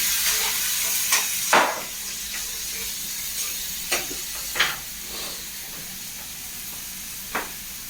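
Chicken liver frying with masala in a pan over a strong flame gives a steady, faint sizzle, broken by a few sharp scraping clicks from stirring. No one talks.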